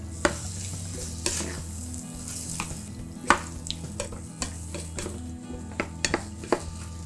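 Ratatouille vegetable sauce simmering in a pan, with a low steady sizzle and bubbling broken by repeated scraping and clinking strokes of a spoon stirring, close and without talk.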